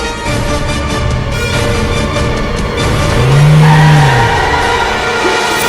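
A car driven along a road with steady engine and tyre rumble, then slowing as it is brought to a stop, a brief rising-falling tone swelling near the end; no speech.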